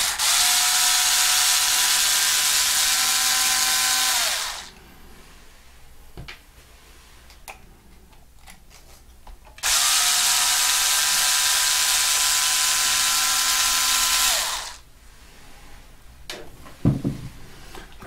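Cordless drill driving long screws into an RC car differential: two sustained whirring runs of several seconds each, steady and close, separated by quiet pauses with small clicks and handling noises.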